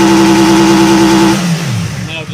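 A 2016 Yamaha MT-10 motorcycle engine on a workshop bench is held by launch control at a loud, steady 7,500 RPM drone, then drops away as the revs fall off.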